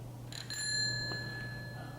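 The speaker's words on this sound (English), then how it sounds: "Number two would be a bell" A bicycle bell rings twice in quick succession, bright metallic dings that linger and fade over a low steady hum, fairly faint and without talk.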